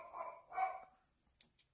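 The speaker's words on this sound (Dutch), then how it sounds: "mijn hondje is weer een beetje boos, dat horen jullie" A small house dog barks at someone at the door, two short sharp barks fairly close, followed by a couple of faint clicks and quiet.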